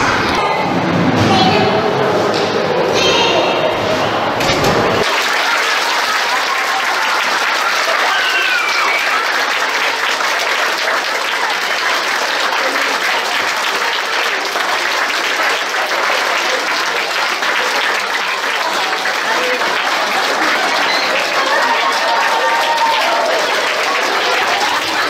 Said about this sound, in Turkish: Öğrenciler kanseri yenen öğretmenlerini okulun ilk gününde alkışlarla karşıladı.